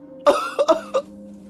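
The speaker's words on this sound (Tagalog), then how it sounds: "Pilit na pinipigilan ang malakas na ubo, pero hindi niya na kaya." A strong, harsh fit of coughing, four close, loud bursts in quick succession, the second pair nearly back to back, with no talking.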